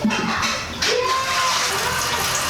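A toilet flushes with its lever held down, a loud close rush of water that dips briefly and then surges again before pouring on steadily.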